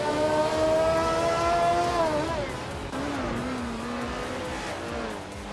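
Engine of a Matra MS120B racing car in a video game, a steady loud drone whose pitch climbs, drops sharply around a gear change, then holds at a lower level.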